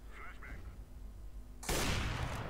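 Gunfire in CS:GO erupts abruptly after a quiet stretch with a voice, a loud dense burst of shots that continues to the end.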